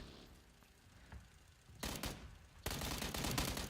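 Video-game gunfire aimed at the player comes in sudden loud bursts of rapid shots after a quieter stretch, ending in a dense sustained volley.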